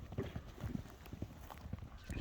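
Hooves of a horse being walked past for sale in a Kyrgyz village clop in a steady, moderately close rhythm on the ground, with faint background voices.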